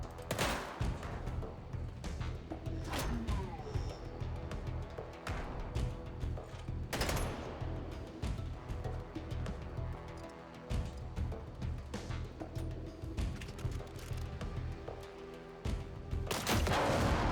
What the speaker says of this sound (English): I want to see if I can take a shot at his fuel tank and do extra damage